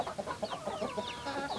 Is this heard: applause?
no